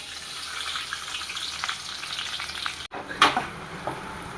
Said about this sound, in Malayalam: എണ്ണ ഏകദേശം ചൂടായി വന്നിട്ടുണ്ട്. നമുക്കപ്പം സവാള ഇട്ട് കൊടുക്കാം.